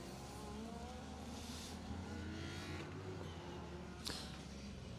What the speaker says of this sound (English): A similar looking Peugeot 205 of Mark and Joe Young following through the finish line as well.